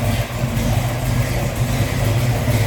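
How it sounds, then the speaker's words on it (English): A 1966 Chevrolet Chevelle SS 396 V8 with an Edelbrock intake and four-barrel carburetor idles steadily and close by, a smooth, even low rumble that holds without revving for the whole stretch. "Smooth running engine."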